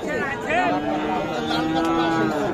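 Cow at a cattle market lowing with a long, steady moo that rises and holds, close and loud, amid a busy crowd murmur in the background.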